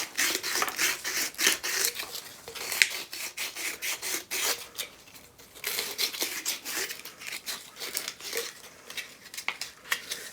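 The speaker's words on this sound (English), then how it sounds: "Now I'm just going to sand the inside part of this and get the lip a little bit" Hand sanding the inside and lip of a dried gourd with 120 grit sandpaper, giving continuous scratchy rasping strokes in an uneven rhythm, close and moderately loud, with no talking.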